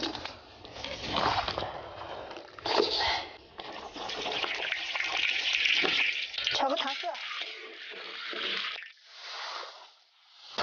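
Pig head rinsed under a running tap, a close gushing splash of water that surges and drops in uneven bursts, with brief pauses as the head is turned and handled.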